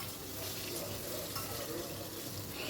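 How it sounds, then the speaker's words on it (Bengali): Fish fry in hot oil as they are turned side to side until browned, giving a steady, dense sizzling hiss that stays even and moderately faint throughout. "আমি এপিঠ ওপিঠ করে মাছগুলোকে কিন্তু বেশ ভালো করে ভেজে নিচ্ছি"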